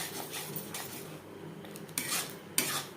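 A spoon scrapes and clinks against a cooking pot as a vegetarian paneer curry with nut paste is stirred over medium-low heat, with irregular metallic taps and soft scraping close by, no talking.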